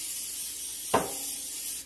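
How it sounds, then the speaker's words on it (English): A short hissing spritz of cooking spray hits a 13 by 9 baking pan, a single brief burst heard close over a steady background hiss. "now we're gonna take our 13 by 9 and we're gonna spray this"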